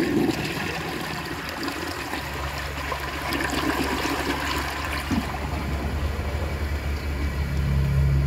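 A 1949 Alamo Pottery toilet flushes with a steady rushing and trickling of water that stays loud and close, with a weak bowl rinse from a clogged rim or poor design.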